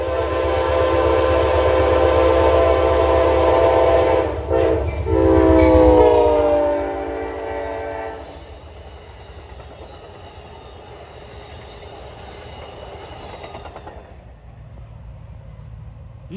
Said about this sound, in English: Eastbound Pennsylvania en route from Pittsburgh to New York.